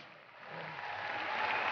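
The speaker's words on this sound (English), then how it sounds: "Come on, folks, let's give them a big round of applause." An audience at Crufts 2014 applauds the West Midlands Police Dog Display Team, a soft, steady wash of many hands that swells gradually and carries on without talk.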